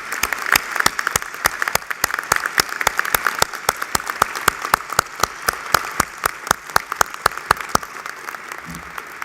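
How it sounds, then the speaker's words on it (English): Audience applause at a Georgia Tech Ph.D. hooding ceremony: dense, steady clapping from a large crowd in a hall, sustained loudly throughout with sharp individual claps standing out. "And give a good applause to all the parents"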